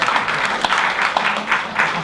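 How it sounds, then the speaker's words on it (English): A short round of applause at a diamond wedding anniversary celebration, a loose patter of clapping from a gathered group, with voices mixed in underneath. "can we also give them maybe a quick round of applause?"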